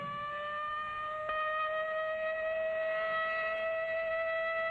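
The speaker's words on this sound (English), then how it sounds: "But tomorrow, this siren may mean the real thing." A civil defense siren drones steadily at a sustained pitch throughout, loud and unbroken, used as a practice warning signal for a nuclear attack.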